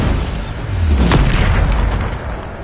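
Bombarda blasting spell from the video game Hogwarts Legacy detonates in a single deep, rumbling boom that swells and lingers for a couple of seconds before fading.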